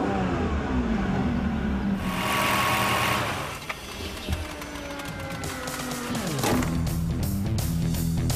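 A Ferrari 575 Maranello engine roars steadily, rising and falling with revs, then sputters and crackles in short bursts toward the end; no voices.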